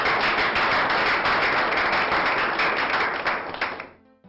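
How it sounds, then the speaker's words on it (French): Dense applause from an audience at a ceremony honoring young women laureates, loud and sustained clapping that thins out and fades near the end. "Applaudissez une fois de plus pour un moment."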